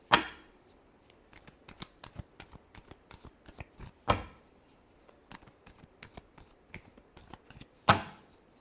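Tarot cards being shuffled by hand during a love reading, a quick run of soft riffling snaps and slaps close up, with three sharper louder hits spaced a few seconds apart.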